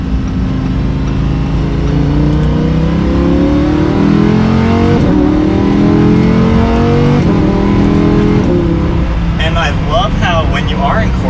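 A Lamborghini Huracan engine revs and accelerates loudly from inside the car, pitch climbing through several upshifts with brief dips between gears, and someone speaks over it near the end.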